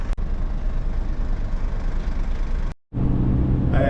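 A vehicle drives along the road towards Bathgate, with a steady low engine and road rumble heard from inside, a brief dropout near the end, then the same drone again.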